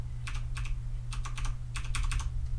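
Plus and minus keys tapped on a computer keyboard, quick clusters of crisp clicks in two or three short bursts, close and clear over a low background hum.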